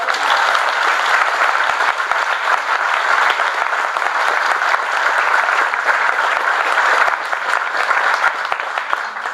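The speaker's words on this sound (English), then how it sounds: "Can we get a round of applause" Dense, steady applause from a large audience at the Dublin Vegfest 2017 talk, loud and close, sustained for several seconds with a thick wash of clapping and no voices on top.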